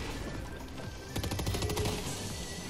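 Rapid bursts of assault rifle fire ring out in a shooter video game, a quick string of sharp shots in the middle of the stretch over steady game background sound.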